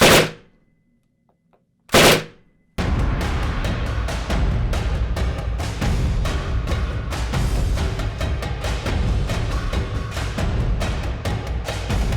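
Soviet PPS-43 submachine gun in a World War II tank-hunting video game, rattling off loud, fast automatic bursts with a couple of isolated shots at the start, then sustained close-range firing amid dense battle noise.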